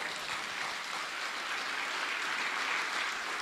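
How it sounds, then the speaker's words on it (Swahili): A university audience at the University of Nairobi claps, a continuous, even patter of applause from a large crowd, moderately loud and steady throughout. "Nipigieni makofi."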